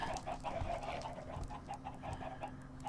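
Chickens clucking softly in a repeated, uneven series of short calls, fairly faint and close, over a low steady background hum.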